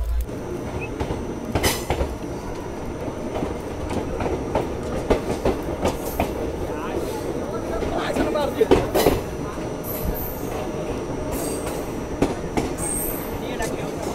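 The Vibhuti Express rolls near Buxar railway station in Bihar. Carriages rumble steadily with rhythmic wheel clatter and occasional sharp squeals, heard from inside or close to the train.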